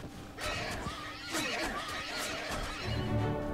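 Horses neighing during Age of Wonders III gameplay, a loud whinny rising and falling over a busy battle backdrop, with rumbling effects underneath.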